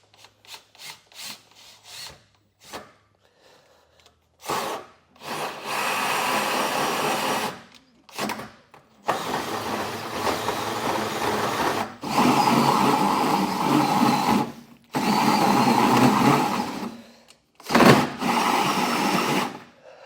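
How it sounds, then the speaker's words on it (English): A hole saw bores through a truck bed during a Curt EZr Double Lock underbed gooseneck hitch install, starting with short tentative bursts, then long loud grinding runs separated by brief pauses, close and raw. "as I drilled, it went in perfectly to our hole saw"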